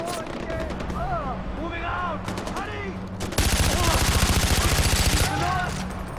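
Gunfire in the video game Far Cry 4: scattered shots under a voice, then a loud sustained automatic burst lasting about two seconds, followed by a few more shots as the voice returns.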